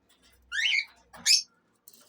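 A Gloster canary calls in an indoor bird room: two short, bright chirping bursts, the first a rapid warbling trill and the second a sharper squeaky note, then a faint final chirp, close and alone.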